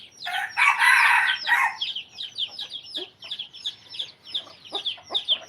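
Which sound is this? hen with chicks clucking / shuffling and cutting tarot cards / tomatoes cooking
hen with chicks clucking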